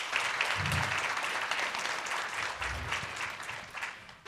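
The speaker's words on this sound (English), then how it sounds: "how about another round of applause?" Sustained applause from a crowd, a steady dense patter of clapping that carries throughout without pause.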